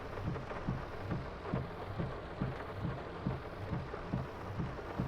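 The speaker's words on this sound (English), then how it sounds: "It's very heavy rain now, guys" Heavy rain pours steadily in the farming game Farming Simulator 22, a dense continuous hiss with soft rhythmic low thumps beneath, fairly quiet overall.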